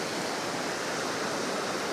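White water waves break and wash along a shoreline at sunrise, a steady, broad, loud rush of surf with no distinct individual crashes, heard alone.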